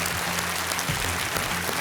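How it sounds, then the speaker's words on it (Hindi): Studio audience applause on the quiz show Kaun Banega Crorepati, a brief burst of even clapping with some low hum beneath it, moderately loud and continuous throughout. "तालियों के साथ इनका स्वागत किया जाए।"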